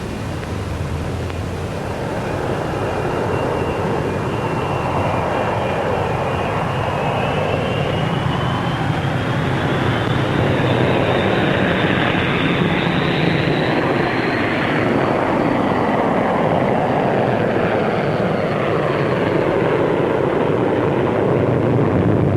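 Two Avro Vulcan bombers fly past at Farnborough in the 1950s, a loud sustained engine roar with a rising whine that swells and shifts pitch as they pass, continuous and unbroken throughout.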